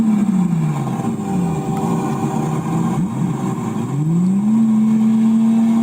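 Lamborghini Murcielago V12 engines revving, loud and close, rising and falling in pitch in a few sweeping pulls that dip briefly near the middle before climbing again and holding high, with no talking.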